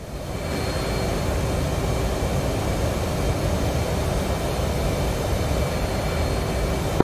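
A jet aircraft runs on afterburner in the DCS World flight simulator, a steady, loud, broadband roar with a faint tonal whine, unbroken throughout.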